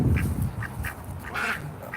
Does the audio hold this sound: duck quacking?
yes